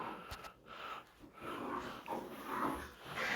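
Dogs playing together give soft snorts, sniffs and wheezy breaths, a close, low-level scuffle of nasal sounds with no talk.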